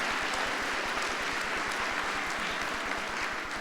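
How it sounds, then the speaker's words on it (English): School assembly audience applauding the lacrosse team, a dense, steady roar of many hands clapping in a large hall, continuous and even throughout without voices. "Could we give them a round of applause too,"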